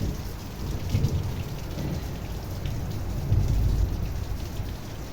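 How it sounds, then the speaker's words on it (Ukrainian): Steady rain with rolling thunder, a continuous hiss of falling water with deep low rumbles swelling around the first and fourth seconds, no talking. "Ух, гримить."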